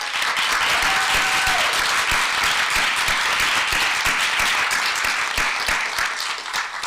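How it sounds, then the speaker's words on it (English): A lecture hall audience gives warm applause for students, loud and dense sustained clapping that fills the space without a break, with a brief whistle or cheer near the start. "a warm applause for the students"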